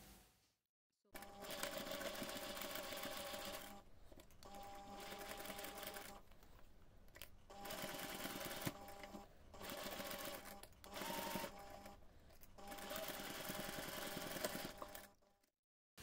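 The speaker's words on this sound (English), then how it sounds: "take this to the machine and sew the seam" A sewing machine stitching the seam of a fabric cup sleeve, running in steady whirring, rattling stretches broken by brief pauses, heard close and fairly loud.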